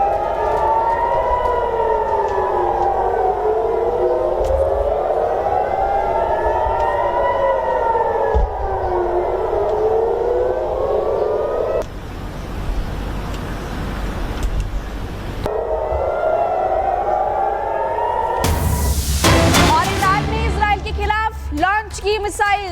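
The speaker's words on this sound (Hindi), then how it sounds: "इजराइल के प्रमुख शहरों में सायरन की आवाज सुनाई दी है, वो सुनाएंगे हम आपको।" Air raid sirens wail across Israeli cities during a missile attack, a loud rising and falling tone that runs steadily for most of the stretch, broken by a burst of noise and a sharp loud crash near the end.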